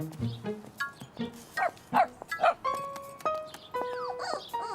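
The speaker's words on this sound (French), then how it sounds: "C'est le petit chien." A small dog yaps and barks in short bursts, mixed with whines, close by, with some background voices.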